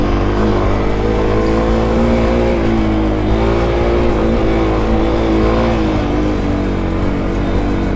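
Kawasaki KLX250 dirt bike climbing a hill at full throttle in second gear, a loud, close, sustained engine roar with a steady strained drone throughout, no breaks or talk.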